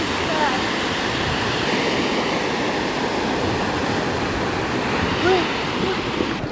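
Atlantic surf along a Florida beach makes a continuous, broad roar of breaking waves, steady and fairly loud, with a faint voice briefly heard over it.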